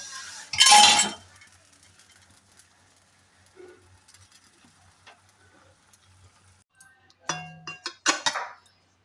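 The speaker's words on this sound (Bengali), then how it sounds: "একটা সুন্দর পাত্রে পোস্তটাকে ঢেলে নিচ্ছি" Cooked poppy seed paste being tipped and scraped from a pan into a bowl, with a loud clattering knock at the start, soft scattered scrapes, then a few bright clinks of a utensil against the bowl.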